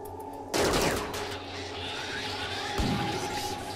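Gunfire from the video game RimWorld: a loud burst erupts suddenly and rattles on as a sustained volley, with a second sharp shot near the end, close and heavy with no talking.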